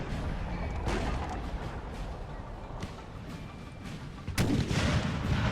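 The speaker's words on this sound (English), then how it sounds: "So Prussia could be in for a world of hurt here with 5 8-pounder shots coming in." Booming 8-pounder cannon fire in the Napoleon Total War video game, several shots scattered across the span, one especially loud blast near the end, amid constant battle noise.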